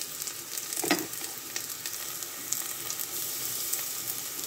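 Onions frying in a pan with salt as they brown, a soft steady sizzle with a brief clatter of stirring near the start.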